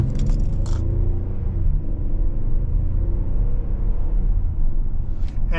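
A 3.8-liter V6 in a 2024 Hyundai Palisade Calligraphy Night Edition pulls steadily, a low, even engine rumble with road noise that holds constant throughout and never climbs into a sharp rev.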